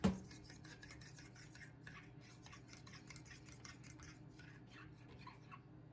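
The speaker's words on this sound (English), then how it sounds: "Stirring, stirring, stirring." Yarn being stirred in a dye pot, a steady wet swishing and scraping that repeats in quick strokes throughout, close and moderately quiet, with no talking.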